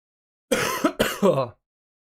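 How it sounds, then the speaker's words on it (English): A single throat clearing in two quick rasping bursts, close and fairly loud, with silence before and after. "let me just clear my throat"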